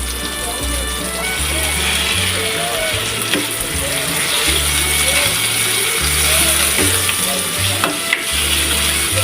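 Ground pork giniling sautés with tomatoes in a hot pan, a loud continuous frying sizzle with scraping stirs and clinks from the spatula, while a person talks over the cooking.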